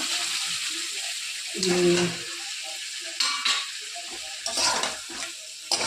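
Bata fish frying in a pan with onion and ginger gives a steady hiss under a voice, with a few brief clinks of cookware.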